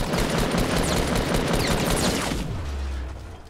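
Rapid gunfire in Fortnite, a loud continuous burst of automatic shots that cuts off and fades into quieter background after a couple of seconds.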